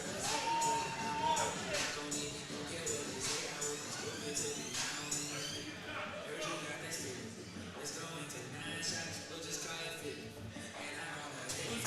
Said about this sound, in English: The crowd is willing her on.